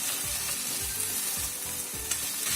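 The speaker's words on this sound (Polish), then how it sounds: "Bardzo fajnie się smaży. Rybka nam się podtworzyła z jednej strony, obracamy teraz na drugą stronę." Frozen fish with skin on sizzles steadily in a hot frying pan, with a dense crackle throughout and a few soft scraping or stirring pulses, close up, with no talk.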